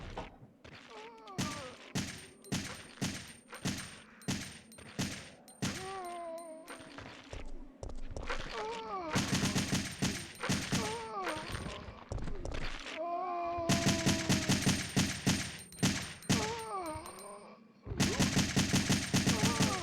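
An assault rifle fires in Resident Evil 3 Nemesis on PS1, with rhythmic repeated shots early and then long, loud sustained automatic bursts, and game sound effects between them.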